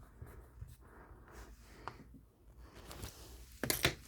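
Someone writes by hand at a quiet desk, making faint, irregular scratching strokes with brief pauses between them and a slightly firmer scrape near the end.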